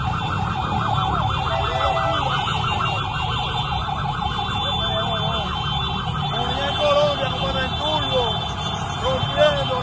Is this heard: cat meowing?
no